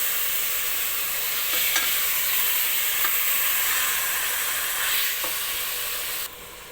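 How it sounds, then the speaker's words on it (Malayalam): Chicken roast, Kerala style, is stirred in a pan over a low flame, with a loud continuous sizzle and hiss and occasional scraping taps before the sound suddenly drops off. "ഇനി നമുക്കിത് നന്നായിട്ട് ഇളക്കി യോജിപ്പിച്ച് കൊടുക്കാം."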